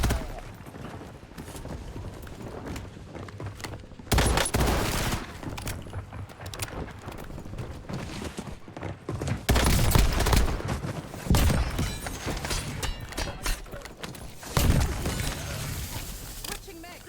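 Dual Vertox 5.7 pistols fire in rapid bursts during a Rebirth Island match, with sharp, loud repeated shots in clusters over game sounds and a talking voice.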